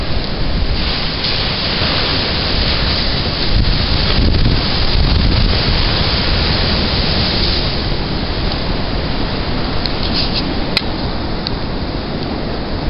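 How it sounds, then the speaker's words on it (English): A coastal winter storm on the seacoast, with flooded coastal roads nearby: strong wind roars steadily against the microphone over crashing surf. The sound is loud and unbroken throughout, with no voices. "this right here is quite the storm"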